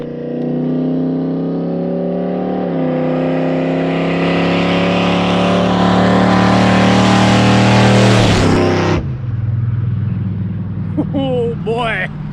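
A loud 6.0 diesel truck engine roars as it accelerates hard with exhaust dumps open, its pitch climbing steadily for several seconds before cutting off abruptly, followed by a brief rumble and faint chatter.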